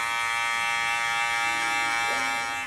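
Electric hair clippers buzz steadily and loudly at close range while blending a mid fade on a head of hair, a constant motor hum with slight shifts in tone as the blade moves, no talking.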